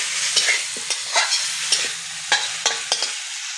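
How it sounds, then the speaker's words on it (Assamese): Chicken frying in a pan over a wood fire, with a steady sizzle and repeated scraping stir strokes, loud and close with no talking. "এতিয়া অকণমান ভালকৈ ভাজি থাকিম।"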